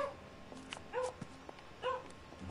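A dog in the Gravity Rush 2 video game gives a few short barks and whimpering yips, spaced out in quick bursts against a quiet background.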